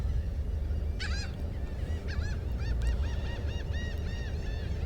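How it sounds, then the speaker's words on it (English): Seagulls call repeatedly over the downtown Corpus Christi waterfront during mating season, a series of loud honking cries in quick bursts over a steady low rumble of traffic and wind. "Seagulls are going crazy here too."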